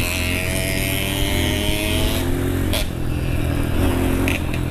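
A dirt bike engine drones loud and steady while riding to meet other motocross riders, with a rough engine tone and wind noise throughout and no talking.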